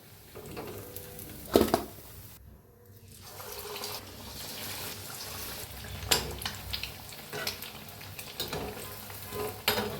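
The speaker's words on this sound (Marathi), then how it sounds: "सगळेच अंडे असेच तळून घेते मी" Egg pakoras deep frying in hot oil, a steady bubbling sizzle with a few louder clatters from handling, briefly dipping quieter before the frying noise returns.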